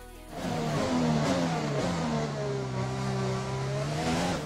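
Formula 1 cars in the F1 2020 game revving together at the race start, a loud, sustained engine drone with rising and falling pitch that fills the whole stretch with no break.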